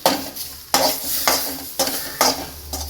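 Tamarind and spice mixture sautéing in hot oil in a pan for a Hogenakkal-style fish curry, with steady sizzling and repeated stirring scrapes of a spoon against the pan, close and loud, no talk.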